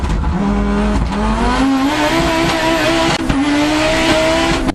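Renault Modus with a rally-style setup revving hard, a loud, close engine climbing steadily in pitch with brief lifts between pulls and some tyre squeal, no speech.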